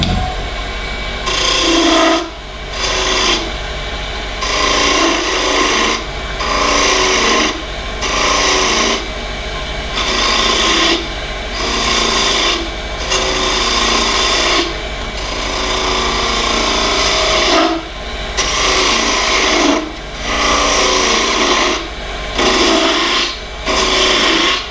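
Wood lathe turning an off-center wooden goblet, with a tool scraping and rasping against the spinning wood in repeated strokes broken by short pauses, steady and close, no talk.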